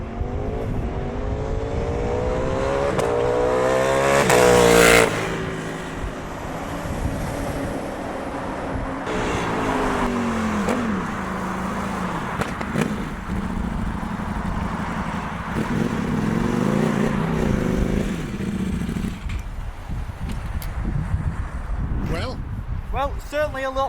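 A remapped Ducati Streetfighter V4 motorcycle engine revs hard during a ride, climbing to a loud peak then settling into a steady drone through the gears, with someone talking over it and wind noise throughout.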